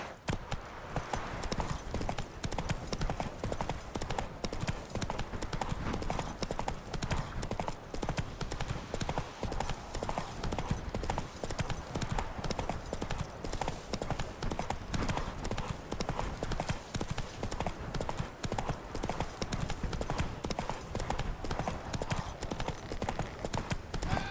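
Hooves of Roach, the horse in The Witcher 3, clip-clop in a fast, unbroken galloping rhythm, loud and close throughout, with a faint voice briefly under the hoofbeats.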